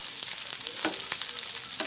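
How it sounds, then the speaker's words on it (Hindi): Chicken seasoned with black pepper fries in a pan with a busy, close sizzle and quick irregular spits and pops over a short stretch, with no voices. "मैं ये चिकन फ्राई करूँगी"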